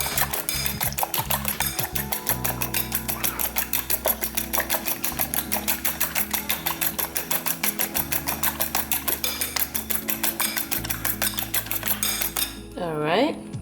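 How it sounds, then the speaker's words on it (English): Egg being stirred in a skillet for egg fried rice, rapid rhythmic metal scraping and clatter repeating steadily and close, ending in a short sizzling sweep. "So give that a quick mix."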